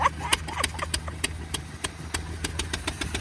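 A tractor idles with a loud exhaust close by, a low, steady engine rumble under a series of sharp, regularly spaced ticking clicks.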